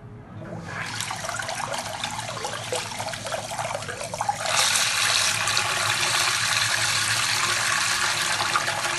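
A DC45B-24100S micro brushless DC water pump, rated 24 V and 30 W, runs submerged in water, giving a steady, loud churning wash that swells noticeably about halfway through and then holds without talk.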